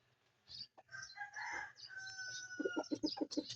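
A street comb rooster crows and clucks up close, the crow followed by a quick run of rhythmic clucks.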